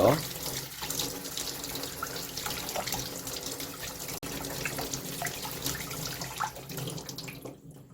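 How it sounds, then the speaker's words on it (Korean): Tap water runs steadily over cleaned rockfish in a sink as blood and guts are rinsed off, a continuous close splashing that carries on for several seconds. "내장과 피를 씻어 주시고요"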